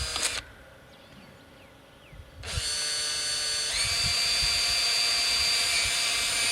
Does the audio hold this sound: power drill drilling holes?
yes